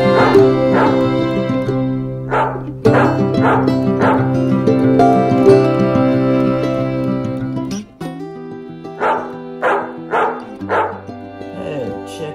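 A dog barks outdoors at a race, with repeated close bow-wow barks and yips in uneven bursts, a few whimper-like cries near the end, and no speech in the clip.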